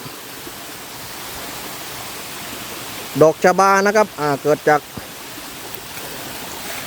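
A small waterfall in forested hills near Khlong Prap gives a constant, even rushing hiss throughout, while someone talks briefly partway through.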